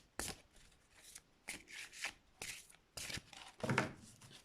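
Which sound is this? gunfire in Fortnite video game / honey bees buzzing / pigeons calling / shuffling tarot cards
shuffling tarot cards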